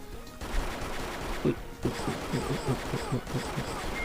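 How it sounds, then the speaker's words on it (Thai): Automatic weapon fire in the HeyHa Royale video game, short bursts of rapid shots repeating through the clip at moderate loudness over a busy game-sound background. "มันจะยิงอัตโนมัติเลยนะฮะ"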